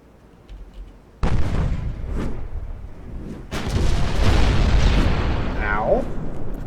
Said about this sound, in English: And the 9-inch gun will fire again